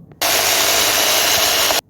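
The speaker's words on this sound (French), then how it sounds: "un petit peu de scie sauteuse" A jigsaw cutting laminate flooring buzzes loudly for about a second and a half, close by, a harsh steady cutting noise that starts and stops abruptly.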